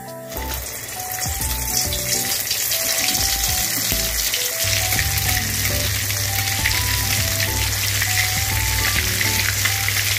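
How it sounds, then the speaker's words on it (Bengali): Soybean muithya dumplings fry in hot mustard oil, giving a loud, steady sizzle with bubbling crackle that thickens partway through and keeps going without a break, with no talking. "তেল গরম হয়ে গেছে, এবার মুইঠাগুলো ভেজে নেব।"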